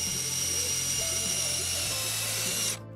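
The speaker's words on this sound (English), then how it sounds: "Then I pre-drill all my holes on all my rafters so I don't crack the wood." A power drill whines steadily as it pre-drills holes into wooden pergola rafters, a continuous high-pitched motor drone heard close up for a few seconds before cutting off abruptly.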